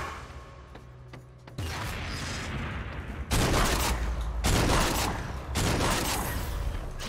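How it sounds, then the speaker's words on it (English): Plasma cannons fire in the video game Agents of Mayhem, loud repeated bursts of heavy blasts with crashing impacts, starting after a quieter stretch and coming in long sustained volleys. "The plasma cannons."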